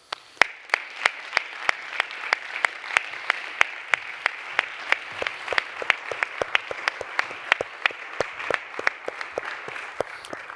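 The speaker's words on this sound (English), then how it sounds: "Please, a round of applause for the Sherlocks." Applause at a tech summit for a team called the Sherlocks, made of sharp, spaced claps, mostly one steady pair of hands with a lighter scatter of others, lasting about ten seconds at a moderate distance.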